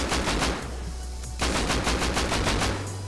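Rapid bursts of AK rifle fire in the video game Rust, two strings of evenly spaced shots with a short break between, loud and close with no talking.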